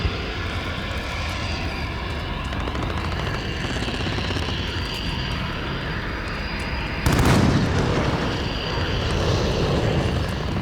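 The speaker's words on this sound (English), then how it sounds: "that stupid ass airplane's all loud" A loud airplane roars overhead in the Modern Warfare video game, a sustained engine drone with a sudden louder swell partway through.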